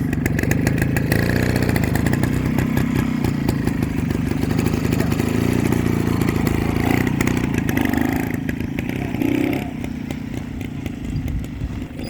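A 1996 Rajdoot Excel T two-stroke motorcycle runs steadily nearby, its engine giving a loud, even, rattly putter that eases slightly toward the end.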